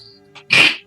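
A single sharp human sneeze, close and loud, preceded by a short intake of breath, over a quiet background.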